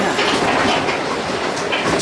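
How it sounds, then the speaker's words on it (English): Loud, continuous rumbling rattle of a Bala Lake Railway train car moving along the track at about 12 mph, a dense steady clatter heard from inside. "It goes at about 12 miles an hour and rattles about a bit"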